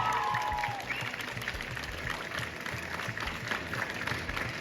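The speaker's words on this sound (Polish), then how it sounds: "Matylda Wróblewska. Wielkie brawa!" Crowd applause at a high school sports awards ceremony in Środa Wielkopolska, honouring an athlete; continuous clapping fills the room at moderate level, with low rumble beneath and no talking over it.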